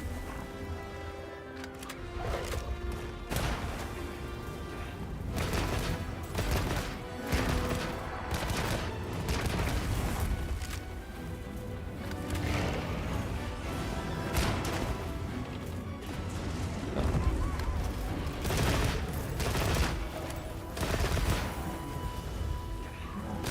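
Heavy bowgun firing with strong recoil while hunting an alpha Dosshaggama monster, repeated loud booming blasts and crashes in irregular bursts over a dense game soundscape of music and effects.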